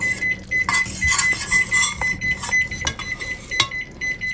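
An electronic kitchen timer beeps in a steady repeating pattern of short high tones, over clattery kitchen background noise.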